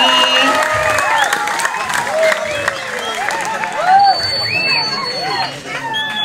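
Audience applause and cheering at a Balinese Calonarang performance, a dense crowd roar with hand-clapping, shouts and whistle-like cries running steadily throughout.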